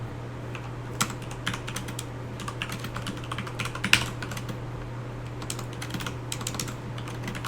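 Rapid typing on a computer keyboard, quiet and close, with irregular bursts of clicky keystrokes and a slightly harder tap near the middle, over low steady background hum and no talk.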